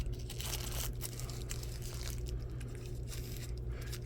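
Crinkly plastic bag holding a GFCI outlet tester, handled and opened up close, a continuous rustling and crackling of thin plastic with no talk.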